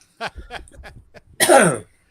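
A man coughs and clears his throat in short, close bursts, a few small rasping hacks followed by one louder, longer throaty clearing.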